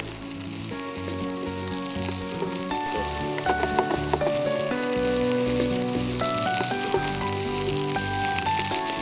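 Egg fried rice with masala beef frying in a pan, a continuous loud sizzle with clinks and scrapes of stirring over it, no voices.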